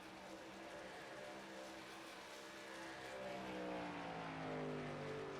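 Race trucks roar past on the Pocono Raceway oval, their engine notes rising and then falling away in a steady, fairly distant drone of passing motors.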